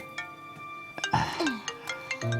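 A phone ringtone chimes in a dubbed Chinese drama scene, a short electronic melody of bright repeated tones rising briefly at close range before a voice answers.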